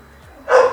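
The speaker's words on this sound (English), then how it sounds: "He started a whole like barking thing with all the dogs in the neighborhood." Jax, a dog, lets out a single loud bark close by after a moment of near quiet.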